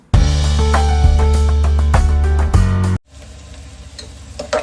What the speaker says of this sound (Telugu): ఆనియన్ బాగా ఫ్రై అయిపోయింది కదా